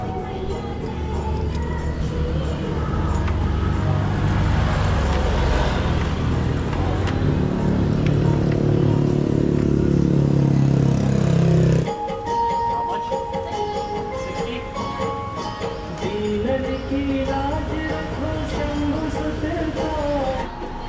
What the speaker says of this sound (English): that was the most nerve-wracking motorbike ride I've had in this country so far